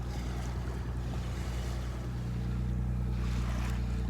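A boat's engine drones low and steady while water washes softly against the hull on a calm North Sea near Helgoland, a continuous rumble with faint wind.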